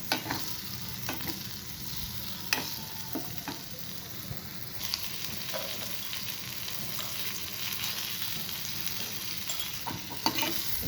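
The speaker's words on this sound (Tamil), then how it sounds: "பாவக்காய் போண்டு நல்லா எண்ணெயில் வந்து வெந்துட்டுருக்கு" Whole bitter gourds fry in hot oil, a steady close sizzle with light stirring and scattered clicks and taps of a utensil against the pan, no voices.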